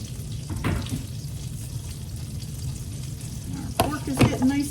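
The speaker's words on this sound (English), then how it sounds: "Our pork is getting nice and cooked up. Let's give this a good little mix up here." Pork fries and is stirred in a pan with pineapple: a continuous close sizzle with scraping and clattering stir strokes, louder bursts of mixing near the end, no talking.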